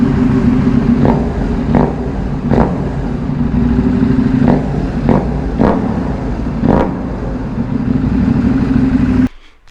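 A warmed-up KTM Duke 790 motorcycle engine idles close by with a steady low drone, punctuated by a series of sharp revs or clattering bursts, before cutting off abruptly near the end.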